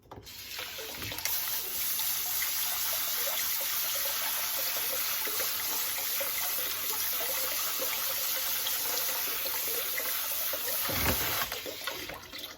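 Rinsed quinoa draining in a kitchen, water running and trickling steadily through it for most of the stretch, a continuous close wash of liquid with no voices.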